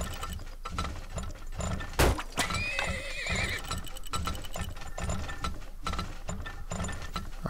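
Horses in the video game Turmoil neigh and whinny loudly over steady clip-clop hooves and a ratcheting mechanical clatter, with a voice talking beneath.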